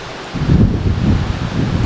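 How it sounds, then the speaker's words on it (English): Strong wind gusts buffet the microphone beside the Siang River, a loud low rumbling roar that kicks in suddenly and keeps blowing steadily. "Wow, so windy."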